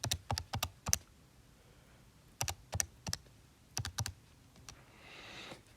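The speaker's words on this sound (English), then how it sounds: "So if we type that into our calculator," Quick clusters of sharp key presses tap numbers into a calculator, falling in short bursts separated by pauses, close and fairly quiet with no talking.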